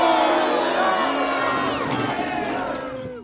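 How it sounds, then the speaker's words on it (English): A crowd boos a singer, a loud sustained mass of drawn-out jeering voices that slowly fades toward the end. "Why are they booing me, Silicon?"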